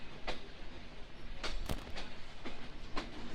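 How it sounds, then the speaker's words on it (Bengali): Chitra Express rounding a small curve out of Noapara station, heard from inside as a soft, steady rolling rumble broken by several brief knocks and clacks at irregular intervals. "ছোট্ট একটি কার্ভ দিয়ে আমরা নোয়াপাড়া রেলওয়ে স্টেশন থেকে বেরিয়ে যাচ্ছি"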